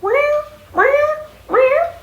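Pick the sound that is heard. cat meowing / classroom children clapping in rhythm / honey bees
cat meowing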